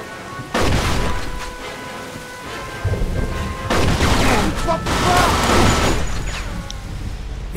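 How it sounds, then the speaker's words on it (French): Gunfire in the Mafia 2 game booms in heavy, rolling bursts over a dense rumbling backdrop, several loud overlapping shots spread across the stretch with a faint voice under the noise. "Je tire à côté aussi, merde."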